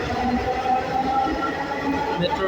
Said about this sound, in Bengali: মেট্রো রেল চলে গেল।